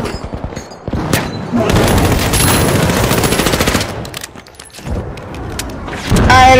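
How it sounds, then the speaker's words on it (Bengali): Flashbang grenade going off in The Finals, a loud sharp blast amid rapid gunfire and booming game action, with a ringing burst near the end. "ফ্ল্যাশ মারতেছি ভিতরে ফ্ল্যাশ ব্যাংক হয়ে গেল"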